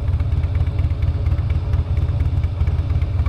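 A Harley-Davidson motorcycle engine, running rough, idles nearby with a steady, slightly lumpy low rumble and a rhythmic chugging pulse, no voices.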